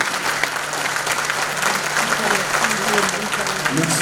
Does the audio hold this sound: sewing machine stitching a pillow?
no